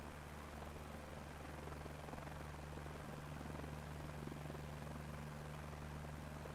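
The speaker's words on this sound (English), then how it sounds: "Every time there's wind, this chopper cannot handle flying at all." Helicopter flying through wind in a video game, a steady low rotor drone with a constant hum and hissy wash, faint and unbroken, with no one talking.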